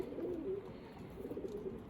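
Pigeons, freshly through their moult, coo in a loft: soft, low rolling coos come in two drawn-out phrases, fairly close and moderately loud, over a steady background hum.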